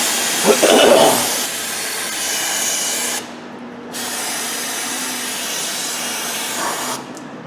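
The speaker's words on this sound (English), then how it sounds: "spray out my cylinder wall and brake clean" Long hissing bursts from a brake cleaner aerosol can sprayed onto cylinder walls of a Dodge 4.7 engine block, one broad spray with a short gap before another, close and loud with faint clanks at the start.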